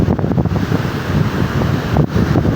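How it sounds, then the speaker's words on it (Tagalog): Loud, strong typhoon wind in Bohol, Philippines, gusting and roaring against the microphone, rumbling and buffeting continuously with brief dips. "Grabe, ang lakas na ng hangin guys, sobra lakas na ng hangin"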